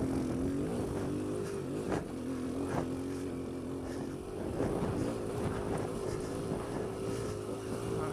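A Kawasaki KLX140L dirt bike engine labours up a steep hill in low gear, a steady buzzing drone close by with brief throttle surges and a dip partway through.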